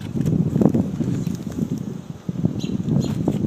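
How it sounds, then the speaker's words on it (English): Chilly wind blows across an open outdoor spot, a steady rough rumble with gusty swells and faint rustling, loud against the microphone throughout. "that wind's getting a little nippy now"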